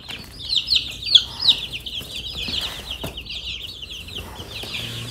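Small flock of chickens in a backyard chicken tractor setup, clucking and calling in quick overlapping bursts, moderately close, with faint rustling and wing movement and no talking.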